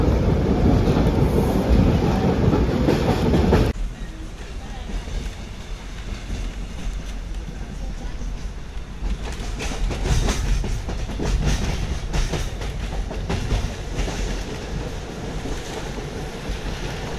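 A Kuranda Scenic Railway train rolls toward a station, a loud roar of wind and running gear at first, then a steadier rumble with faint rhythmic rattling of the carriages over the track.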